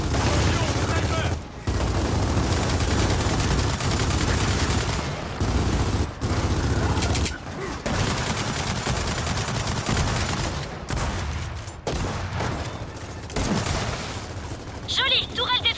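Rapid turret gunfire from a Gears of War 4 match, dense bursts of shots with booms running almost continuously at close range, with brief pauses and a voice speaking over it.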